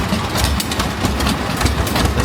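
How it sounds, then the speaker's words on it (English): Tractors at the Colorado State Fair tractor exhibit run with a loud, steady, rumbling engine drone that fills the space without pause, heard close by. "Got some of the tractors fired up so you can hear their"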